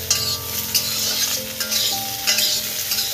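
Beans and carrots sizzle and fry in a kadai while being stirred, with a steady crackling hiss broken by a few scraping, clinking strokes of a spatula against the pan.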